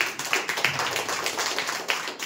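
A church congregation claps hands loudly together, a dense, quick patter of many palms close by, holding steady for a couple of seconds.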